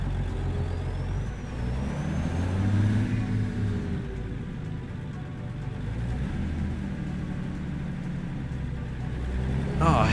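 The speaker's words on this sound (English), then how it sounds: "This sounds more like a truck again." A low, steady engine rumble of a heavy truck idling and driving in a trucking video game, continuous throughout, with a hiss of air near the end.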